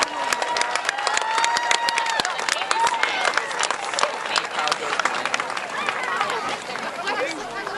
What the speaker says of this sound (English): Let's have a big round of applause for all of our marching band